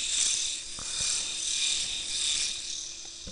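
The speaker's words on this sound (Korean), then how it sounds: "면도기예요." A small electric shaver buzzes steadily and close for the whole stretch, its hum swelling and easing slightly as it moves, with a few faint clicks underneath and no talking.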